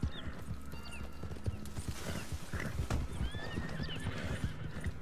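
A horse in Red Dead Redemption 2 neighs while its hooves clip-clop in a steady, busy rhythm, with faint whinnies and clatter throughout and no talk.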